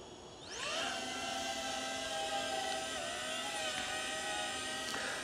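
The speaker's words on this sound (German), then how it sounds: "Und die ist erstaunlich leise, die Drohne." Propellers of a DJI Avata 2 drone spin up after a quiet start, rising quickly into a steady, bright whine with a buzzing edge that holds fairly evenly, close by with no talk.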